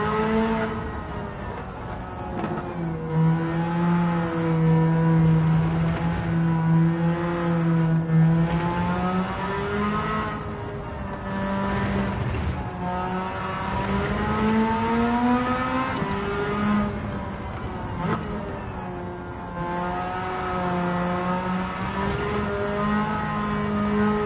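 A Mazda RX-8 in Gran Turismo 7, tuned to about 500 horsepower, revs through repeated rising and falling sweeps across gears for over twenty seconds, loud and continuous with no talking.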